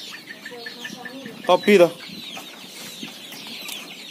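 Chickens in a small poultry pen cluck and squawk in a brief close burst mid-clip, with quieter chirping and talk around them.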